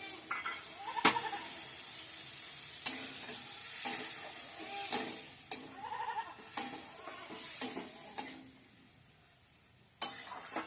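A cauliflower roast sizzles in a pan after a splash of water, bursts of hissing and stirring scrapes coming close and uneven before fading near the end.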